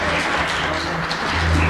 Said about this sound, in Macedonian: Првиот аплауз ќе оди на адреса на екипа